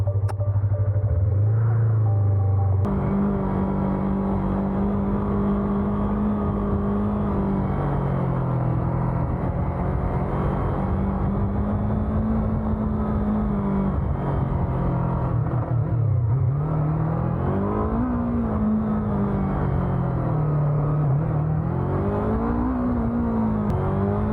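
A 2020 Yamaha MT-25 motorcycle engine idles and then revs loud and close for a long stretch, its pitch climbing and falling through repeated throttle blips.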